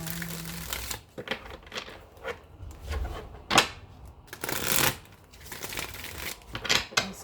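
A deck of playing cards being shuffled, with irregular papery riffling bursts and soft handling clatter close by, no talking.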